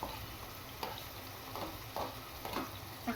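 Tomato, onion and squash sauté in olive oil in a pan, a steady soft sizzle broken by regular spoon scrapes and stirs about every half second, with no talking.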